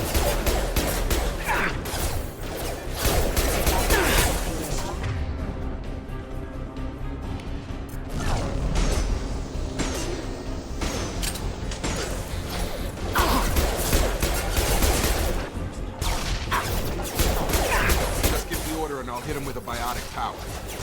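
Gunfire in the Mass Effect shooter, rapid shots, impacts and mechanical clatter layered into a dense, continuous battle din that runs throughout, with voices speaking over the fighting.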